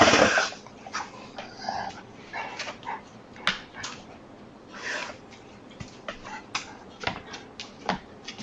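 A dog breathes and pants close by, soft huffs and faint whimpers in an uneven rhythm over a low steady furnace hum in a quiet room.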